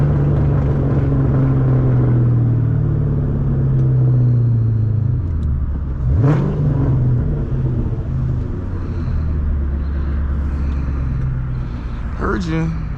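A 500hp 2003 Mustang Cobra Terminator cruises on the road, its steady low engine rumble and drone continuous throughout with slight pitch shifts, while people talk over it in the cabin.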